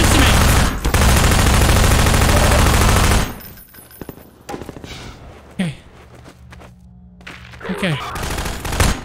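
A dense, loud stream of automatic gunfire fills the first few seconds of a Half-Life 2 mod firefight against the Combine, then drops to scattered clanks, footsteps and a spoken word.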